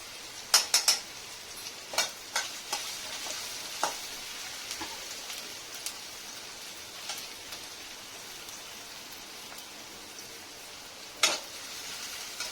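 Onion and curry leaves sauté in a pan, a soft continuous sizzle broken by scattered sharp clacks of a spoon against the pan, a cluster early and another near the end.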